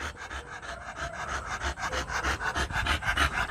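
A dog pants heavily and rapidly at close range, a steady run of quick rhythmic breaths with a raspy edge, heard alone without speech.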